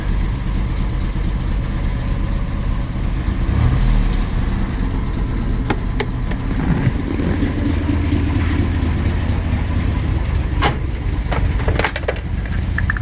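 A 1972 Citroen SM engine idles steadily at close range while faint creaks, hisses and clicks sound from its hydropneumatic suspension as it lowers.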